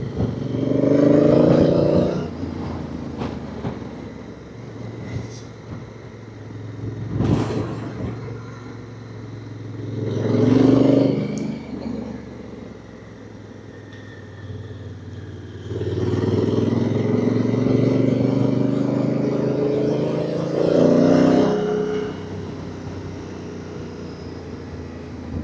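Honda CRF1000 Africa Twin DCT motorcycle ridden in Sport Mode 3, engine revving up through gears in repeated surges with sharp shifts between pulls, loud and close amid wind rush.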